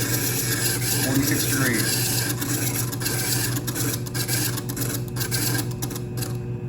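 A glass-filled ruby gem ground on a faceting lap, producing a steady, gritty rubbing and rasping hum over a constant machine drone, with someone speaking briefly over it.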